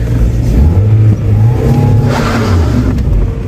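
Engine of a salvaged, wrecked Mazda Miata with a slipping clutch revving hard during a burnout attempt, a loud close rising and wavering roar that dips briefly then climbs again.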